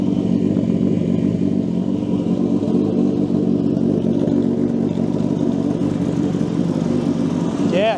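An 800hp go-kart engine is running steadily and loudly close by, with an air rush from the spinning front turbo. The engine holds a constant rumbling drone throughout, and a brief rising whine comes near the end.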